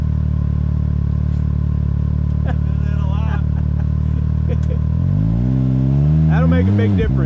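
Four-wheel-drive vehicle engine idling with a low, steady drone on a trail, then revving and labouring near the end, with voices talking over it.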